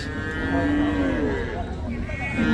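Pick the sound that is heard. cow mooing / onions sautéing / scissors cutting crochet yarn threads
cow mooing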